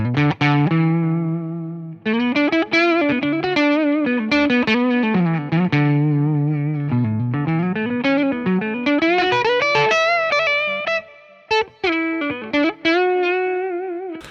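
Spira V-420 electric guitar on the neck pickup playing a melodic lead line with bends and sustained notes, warm rounded tone with slight effects, close and continuous, no talking.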